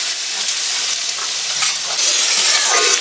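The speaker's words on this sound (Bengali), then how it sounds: "আমার লাউটা ভাজি হয়ে গেছে" Bottle gourd fries in a pan for a Bengali milk-gourd dish, giving a loud, steady hissing sizzle that holds at one level throughout, close by, with no talk.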